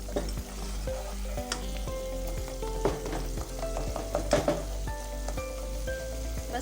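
Steady sizzling of bottle gourd, onion and masala frying in hot oil, with light tapping and stirring clatter over the constant hiss and no voices.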